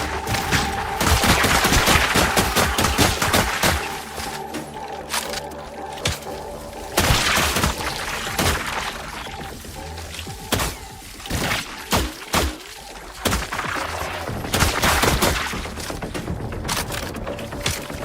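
Heavy gunfire in the video game The Last Caretaker, with dense bursts of rapid shots and sharp cracks that come in repeated clusters over a long stretch, loud and close, and there are short pauses between the volleys.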